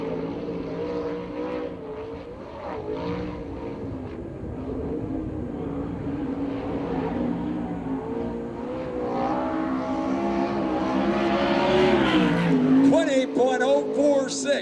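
A USAC/CRA sprint car roars through a qualifying lap at the Hall of Fame Classic in Phoenix, Arizona. Its engine note rises and falls as it passes, swelling louder toward the end, with a commentator talking over it.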